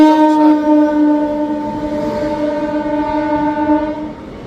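The 13162 Balurghat–Kolkata Tebhaga Express, diverted between New Farakka and Dum Dum and moving slowly, gives a loud, sustained horn-like tonal blare that fades gradually over several seconds, with no talking.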